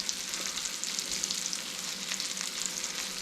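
Swedish meatballs sizzle in a pan with a continuous, fairly soft crackling fry, even and unbroken across the whole stretch.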